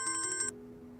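A phone ringtone chimes for an incoming call, a bright repeating electronic melody pulsing about four times over half a second before cutting off, leaving a low steady hum behind.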